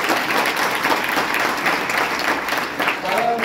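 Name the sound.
audience applause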